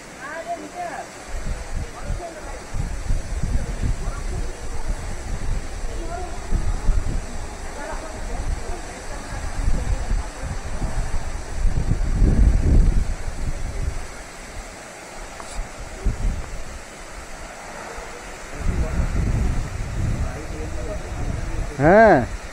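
Khandadhar Waterfall in Keonjhar, Odisha, gives a steady, broad roar of falling water heard up close, with gusty rumbling bursts and wind buffeting the microphone throughout.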